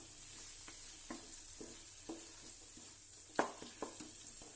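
Tomatoes frying in a pan with spices for Bangalore-style chicken donne biryani, stirred now and then: quiet, steady sizzle with scattered soft spatula scrapes and a few sharper clinks near the end.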